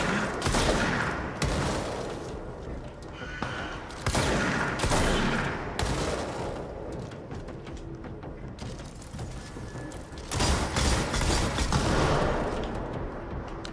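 A big gun firing in the video game Control: loud, sustained volleys of rapid shots in several long bursts separated by short pauses.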